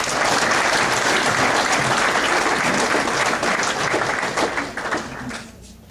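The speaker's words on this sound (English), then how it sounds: "give a big round of applause for our MVP for running events" Banquet crowd applauding an MVP award winner for running events at a 2019 awards event, loud steady clapping that holds for several seconds and then tapers off to near silence.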